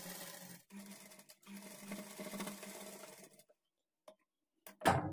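A sewing machine stitches the edge of a high neck blouse in two quick runs of rapid, even clatter, then falls silent before a short knock near the end.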